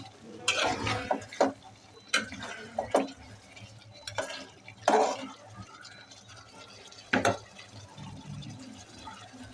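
Duck meat curry is stirred in a pot, a series of irregular close scraping and wet sloshing strokes against the metal, separated by quieter stretches of low simmering.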